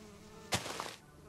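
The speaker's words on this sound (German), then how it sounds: "Ich höre das Geräusch von Bienen." A soft buzz of bees in Minecraft sits in the background, then a sudden rustling hiss rises for about half a second before easing back to a faint drone.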